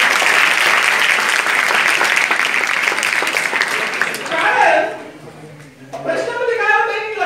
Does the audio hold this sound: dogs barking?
no